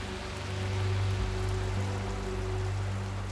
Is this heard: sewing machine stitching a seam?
no